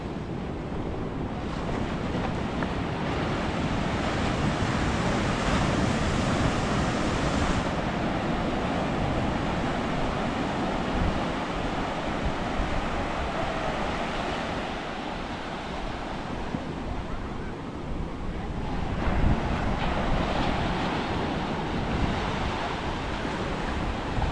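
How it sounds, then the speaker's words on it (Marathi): Arabian Sea waves breaking on the shore, a continuous loud roar of surf with swells rising and falling, mixed with steady wind buffeting the microphone throughout. "अथांग समुद्र. Arabian C. लाटा या लागल्यात."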